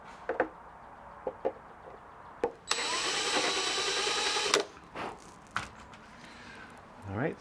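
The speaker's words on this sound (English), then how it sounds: "I'll use the step drill bit on the other side to properly drill this to the right diameter." A power drill with a step drill bit whines steadily for about two seconds while widening a hole in a motorcycle fairing part, then stops; scattered clicks and knocks of handling come before and after.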